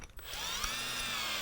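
A Milwaukee M18 1/2-inch cordless drill/driver whirs steadily at high speed after a brief start, close and continuous, boring holes into material with no talking.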